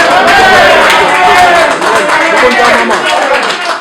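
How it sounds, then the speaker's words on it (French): Audience at a Paris press conference for Werrason breaks into loud, sustained applause, dense clapping filling the room from start to finish and tapering slightly at the end. "applaudissez Sorel qui représente Werason"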